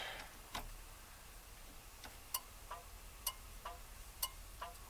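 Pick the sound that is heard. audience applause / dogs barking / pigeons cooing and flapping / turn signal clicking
turn signal clicking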